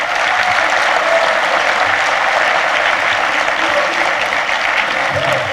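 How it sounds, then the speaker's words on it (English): Loud, sustained applause fills the hall for honored veterans of the Mississippi Civil Rights Movement at a ceremony, a continuous dense clapping from a large audience with faint voices mixed in. "Please give them an applause."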